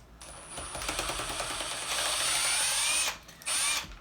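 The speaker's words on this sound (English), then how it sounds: "That's that hydraulic hammer working, but it's kind of quiet." A DeWalt power drill with a hydraulic hammer mechanism whirring at close range, rising to a steady high whine before cutting off briefly and spinning up again, a faint mechanical ticking under the motor.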